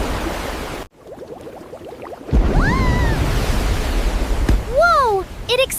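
An Icelandic geyser erupts: after a brief near-silence, a loud, sustained broadband rush of water bursts out and roars steadily, with excited voices and whooping exclamations riding over it.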